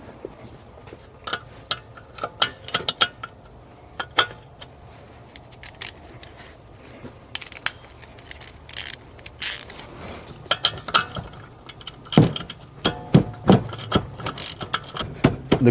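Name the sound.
undoing brake caliper bolts on a Mercedes S550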